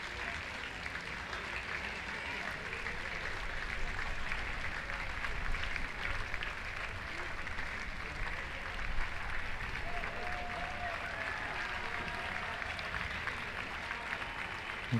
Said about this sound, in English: And some wonderful applause for the women's plate champions, Sri Lanka.